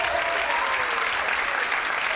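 Sustained, even applause from a comedy show audience in Tel Aviv, a full wash of clapping with no pauses, heard alone without talk.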